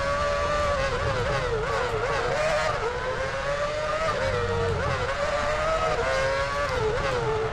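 Formula 1 race cars in the video game F1 Championship Edition at the US Grand Prix, a continuous high-pitched engine whine rising and dipping as the cars brake into turns, loud and steady.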